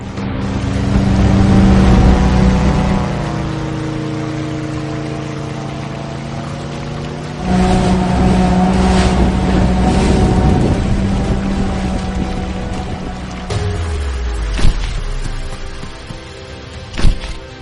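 A motorboat engine running on a river, a loud, steady harmonic drone that shifts pitch as the throttle changes, with a couple of sharp knocks near the end and no talking.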